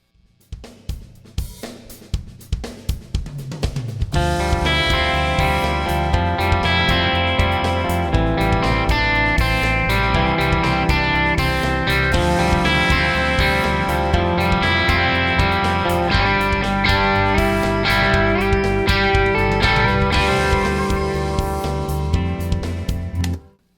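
An electric guitar recorded through a Royer R-122V ribbon microphone plays a part with sustained, effected chords, loud and alone, opening with muted picked strokes before ringing out.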